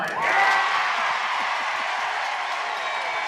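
A softball stadium crowd roars after a replay review at an NCAA Super Regional game between Liberty and Oregon. The loud, sustained cheer swells at once and holds as a dense wall of whoops and clapping.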